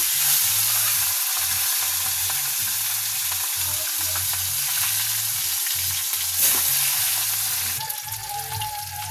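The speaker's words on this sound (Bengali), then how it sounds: "আমি ওই তেলে মাথাগুলো ভেজে নেব" Fish heads frying in hot oil give a steady, loud crackling sizzle that continues without a break and softens slightly near the end, with a low hum underneath and no talking.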